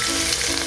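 Garlic hitting hot oil in a pan for ginataang gulay, a dense, continuous close sizzle filling the whole brief moment without talk.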